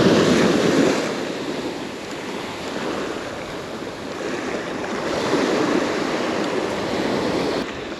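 Ocean surf breaking on a shore where bass and stripers are fished, a loud, continuous roar of washing waves that swells and recedes gently, with wind buffeting the microphone and no voices.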